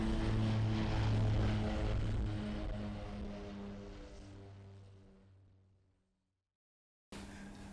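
A calibration flight aircraft, a propeller plane, runs its engines loudly nearby with steady droning harmonics, then the sound fades as it moves away until it is gone, followed by a brief return of background noise.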